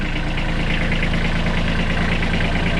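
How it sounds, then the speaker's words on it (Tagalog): Steady, loud engine running close by with a low, rough rhythmic throb and no talk, holding a constant level rather than clearly climbing in revs. "Sige, galitin mo ang makina."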